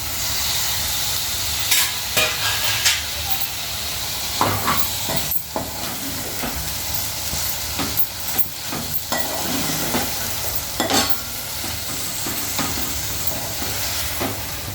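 Tomato frying in oil in a pan for okra fry, a steady close sizzle with intermittent clinks and scrapes of stirring scattered throughout, no talk over it.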